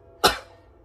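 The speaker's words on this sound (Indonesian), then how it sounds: "Batuk sorry." A single sharp cough from someone ill with COVID-19, close and fairly loud, a quick burst that fades over about half a second.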